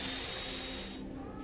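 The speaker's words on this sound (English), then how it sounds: "I'll drill a hole in it first." Dental drill running steadily with a high whine as it bores a hole in an awkwardly shaped tooth, close and continuous for about a second before cutting off.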